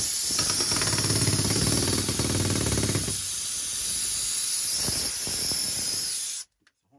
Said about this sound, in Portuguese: Esse rompedor ajuda muito no serviço